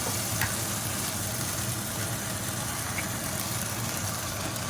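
An egg cracked into a hot pan with bacon for fried rice gives a constant, loud, even hiss of frying that runs the whole time, with only a faint tick or two rising above it.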